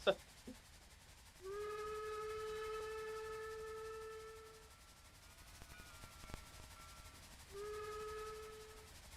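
A Panzerzug armored train running in Trainz, with a long steady whistle blast over a constant rumbling hiss, a brief clank in the middle, and a second whistle starting near the end.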